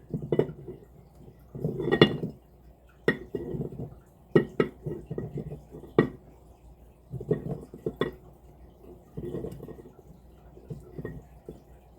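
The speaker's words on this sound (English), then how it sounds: "And now I'm going to add this to the jar." Olives and olive oil are spooned into a jar with scattered clinks of metal and glass, soft wet sloshes and irregular knocks, close by and with no talk.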